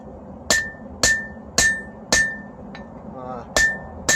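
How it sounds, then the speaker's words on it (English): A lighter hammer striking a Bowie knife blade on an anvil, six loud ringing metallic blows at a steady half-second rhythm with a brief pause, close by with no talk. "Went to a lighter hammer."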